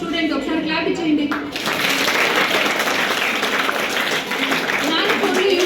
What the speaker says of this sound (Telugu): ఒకసారి క్లాప్ ఇచ్చేయండి.